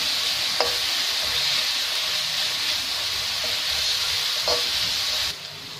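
Carrots sizzle steadily in a hot pan for egg fried rice, with a continuous frying hiss and a few light stirring scrapes. The sound is close, and it cuts down near the end.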